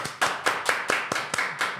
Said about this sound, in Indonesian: Narsis banget ya aku tepuk tangan sendiri